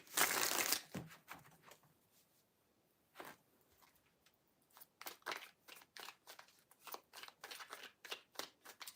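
Tarot cards are shuffled in quick bursts of riffling and slapping, with an opening riffle, a pause, and then a run of crisp card taps, close and fairly quiet.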